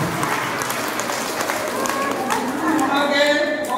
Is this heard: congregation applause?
yes